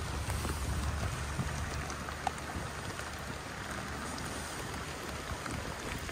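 Rain pattering steadily on a 2007 MacGregor 26M sailboat, a constant dense hiss of drops with no pauses, moderate and even throughout.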